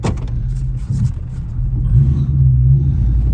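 The engine of a Mazda burnout truck fitted with a posi-traction rear end rumbles low and heavy as it turns around, the deep throb swelling slightly toward the end.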